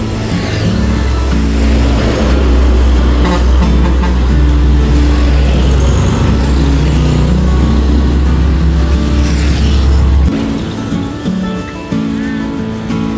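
A Dewi Sri intercity bus pulls away from a roadside restaurant stop, RM Aroma in Cirebon, its engine rumbling loud and close for about ten seconds before cutting away, leaving faint background noise.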